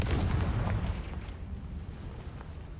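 A fire spell blast from Hogwarts Legacy erupts in a deep, loud boom at the start, then rumbles and crackles as it fades over a few seconds, with no voices over it.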